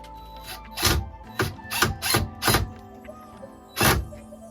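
A screw being driven into a hole gives a series of about six sharp ratcheting clicks at an uneven pace, close by, over a quiet background.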